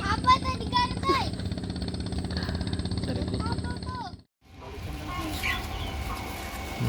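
Chickens cluck around a backyard chicken coop, several birds calling in short overlapping bursts close by under a steady mechanical rumble, with a brief drop to near silence before the clucking and noise resume.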